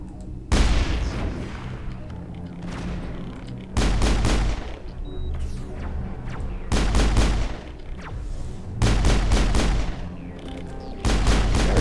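Sniper rifle shots in Mass Effect, heavy booming cracks arriving in regular bursts roughly every two to three seconds, loud and close, each trailing off into a rumbling tail.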